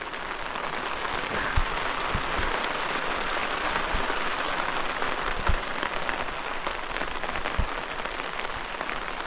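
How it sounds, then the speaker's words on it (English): Steady rain falls on an off-grid spring campsite in the remote mountains of southern West Virginia, a dense even patter with a few louder drops, heard alone with no voices. "Just hanging out in the rain."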